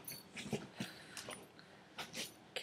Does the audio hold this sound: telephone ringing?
no